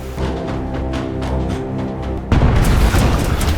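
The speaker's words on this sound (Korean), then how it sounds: "갑작스런 폭발." A sudden loud boom bursts out at a steel mill in a film scene, a tonal industrial hum abruptly giving way to a heavy, rumbling blast that continues roaring.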